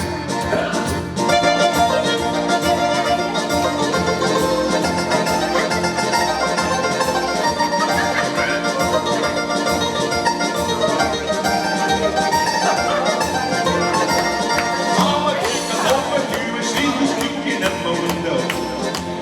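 Dense organ music with rapidly repeated, tremolo-like notes imitating a plucked mandolin, playing continuously with a steady rhythmic pulse underneath.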